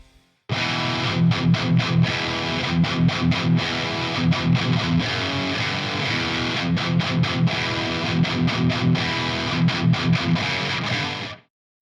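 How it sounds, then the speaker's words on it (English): Heavily distorted B.C. Rich Ironbird Prophecy Mk II electric guitar through a boosted Mesa Dual Rectifier and oversized 4x12 cabinet chugs in tight palm-muted rhythmic bursts with short choppy stops, loud and sustained for about eleven seconds. "a few chugs to start. It's through a boosted dual rec through an oversized Mesa 4x12"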